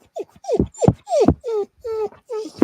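A pet dog whimpering up close, a run of short, high, whiny cries and soft yelps in quick succession, loud and alone.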